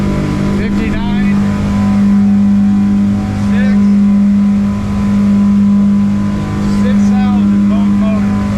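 Twin high-output boat motors run steadily at cruising speed on open water, a strong constant drone with a loud low hum throughout, pitch holding level with slight swells, while someone speaks over it at times.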